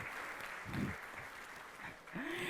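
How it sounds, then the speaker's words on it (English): An audience at a school cooking competition final claps in steady, moderate applause, with some faint voices and a brief tonal sound breaking through near the end. "Let's give ourselves a big round of applause."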